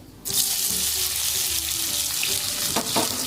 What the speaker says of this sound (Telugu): ఒక పెద్ద సైజు ఉల్లిపాయ, 3 పచ్చిమిరపకాయలు బ్రౌన్ కలర్ వచ్చే వరకు వేసుకోవాలి